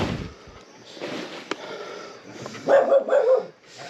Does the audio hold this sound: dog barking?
yes